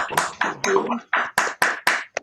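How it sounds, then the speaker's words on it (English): Brief scattered applause for the poet Gayle at an online poetry reading, a few separate claps and bursts from unmuted participants, close and uneven, with voices mixed in. "just do a little applause for Gayle"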